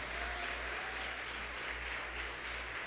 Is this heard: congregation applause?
yes